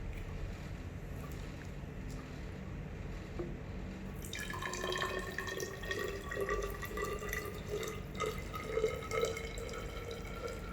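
Liquid, 3% hydrogen peroxide, begins pouring into ethanol after a few seconds of quiet room tone, a soft trickling splash with bright gurgles continuing to the end, fairly faint.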